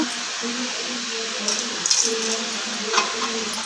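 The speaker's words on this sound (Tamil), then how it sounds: "இந்த அளவுக்கு முருங்கைக்கீரை வந்து நல்லா வதங்கி சுருண்டு வரணுங்க" Moringa leaves sautéing in a pan and being stirred, with a soft steady sizzle, scraping strokes, and a low hum underneath. Light clinks appear near the end.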